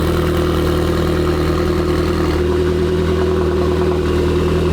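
A supercar's engine idles loudly and close up, a steady deep rumble with layered tonal hum that holds evenly throughout without revving.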